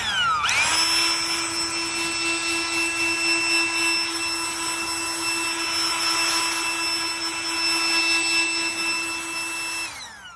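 A snow machine built into a homemade Nightmare Before Christmas tree-eating snake decoration starts up with a rising whine, then holds a loud, steady high-pitched motor drone for about ten seconds before winding down.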